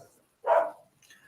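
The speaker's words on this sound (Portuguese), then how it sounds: "Desculpa, minha cachorra tá latindo." A dog barks once, a single loud, fairly close bark standing alone with quiet on either side.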